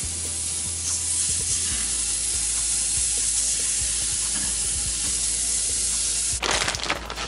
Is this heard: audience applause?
no